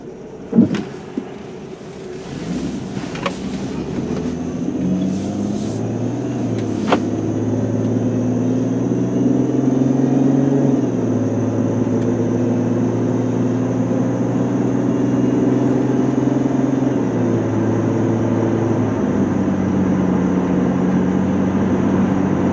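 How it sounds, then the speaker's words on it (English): A 2004 Chrysler Sebring sedan pulls onto the road and accelerates steadily toward about 55 mph, its engine drone rising smoothly from inside the cabin over a constant low road rumble, with a few brief clicks near the start. "I'm just going to pull out on the road, accelerate up to about 50-55 miles an hour"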